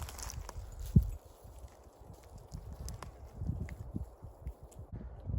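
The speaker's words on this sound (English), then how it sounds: "Hear the dog's footsteps too." A dog's light, quick footfalls patter over dry forest ground nearby, faint and irregular, with one sharper thump early on.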